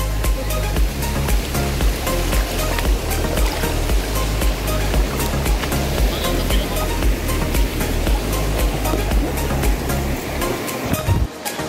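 A constant roaring rush of falling water at Secret Falls fills the whole stretch, loud and unbroken, with a low churning rumble underneath.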